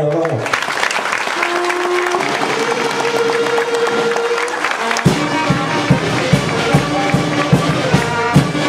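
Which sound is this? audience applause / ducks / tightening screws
audience applause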